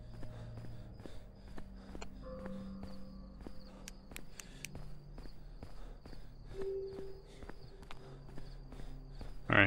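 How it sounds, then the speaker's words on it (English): Footsteps in a video game tread in a steady rhythm over a bed of game ambience and tonal sound effects, with no talking. "I'm listening for those footsteps"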